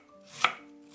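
A knife chops once through cabbage, a single sharp close impact on a cutting board, alone with no talk.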